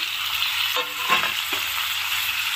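Four large tomatoes go into a pan with dried red chillies for a Chettinad onion-tomato chutney, giving a steady close sizzle and frying hiss with a brief stirring clatter and no talking.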